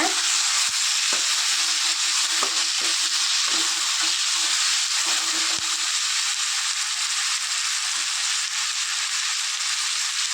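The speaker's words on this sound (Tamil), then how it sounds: "தக்காளி இப்போ நல்லா வதங்கட்டுங்க" Finely chopped tomatoes sautéing in a pan for a ridge gourd sabzi, a continuous loud frying hiss with scattered clicks and scrapes of stirring, no voices.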